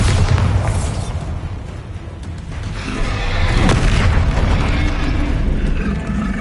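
A heavy booming blast from the Bombarda explosion spell in Hogwarts Legacy rumbles out, followed by a rolling, roaring wash of debris and a second swell of impact noise, loud and continuous.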